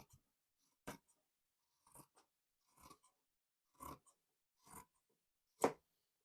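Scissors cutting through a men's shirt, six separate crisp snips spaced roughly a second apart, close and quiet, with the last snip the loudest and no talking.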